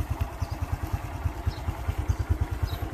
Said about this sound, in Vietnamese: Này đang nổ máy anh em ơi